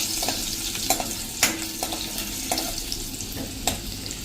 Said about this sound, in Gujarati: અને એને આપણે આ રીતે તેલમાં સાંતળી લેશું.